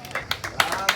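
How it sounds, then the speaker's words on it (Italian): Spectators at an under-17 youth football match applaud a substituted player, a few distinct sharp claps in quick succession, close and fairly loud. "Anche Ferraro si prende l'applauso del pubblico"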